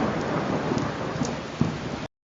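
Heavy monsoon rain pours down in a dense, continuous hiss, with a low rumble of thunder mixed in, loud and close, then cutting off abruptly.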